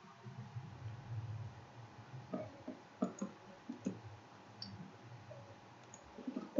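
A computer mouse clicks sharply several times in irregular succession, close and fairly quiet, over a low steady room hum with no speech.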